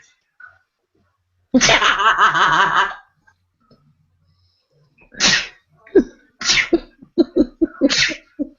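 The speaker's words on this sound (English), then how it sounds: "Here comes 15 sneezes" A long, loud sneeze followed by a string of quick, sharp sneezes in rapid succession, close and clear with no talking.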